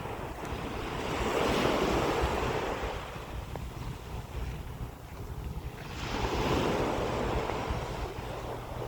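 Waves wash against a lake shore in Korea in slow surges that swell and recede about every five seconds, with steady wind buffeting the microphone and no voices.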